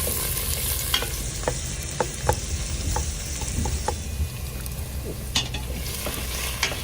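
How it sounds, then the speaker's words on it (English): Onions sizzle in an oiled frying pan while a utensil stirs them, giving a steady close hiss of frying broken by sharp scraping clicks, with no talk. "you're gonna put your onions on."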